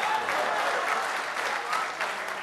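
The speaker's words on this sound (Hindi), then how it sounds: "आपकी तालियां होनी चाहिए अगर मैंने सही कहा" Audience applause for a poet at a shayari recital, a steady wash of many hands clapping at moderate volume, continuous throughout.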